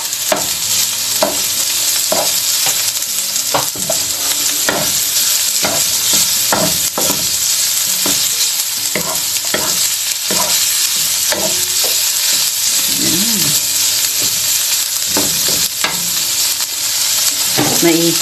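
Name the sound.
chicken stir-frying in a pan for pad see ew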